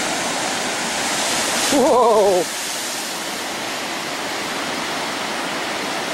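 Big ocean waves churn and roar without pause at Devils Churn, a rocky inlet on the Oregon Coast, as broad loud surf that fills the whole stretch while one person briefly exclaims over it partway through.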